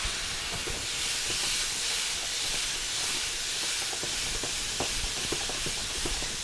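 Shrimp with fajita seasoning frying in a pan gives a loud, steady broadband sizzle, dotted with scattered sharp crackles and pops, with no one talking.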